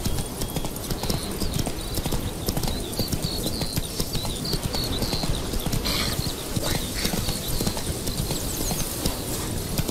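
Roach the horse trots through The Witcher 3, steady clip-clop hoofbeats close and continuous, with a brief voice partway through.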